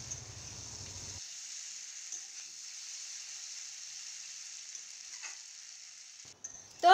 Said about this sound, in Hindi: अब हम इस कटहल को बिना ढक्कन के लगभग अच्छे 10 मिनट फ्राई करेंगे।